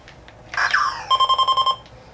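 A short electronic zap from an original Lazer Tag toy swoops downward as its sensor registers a hit, followed by a rapid burst of about eight bright chirping beeps, then quiet.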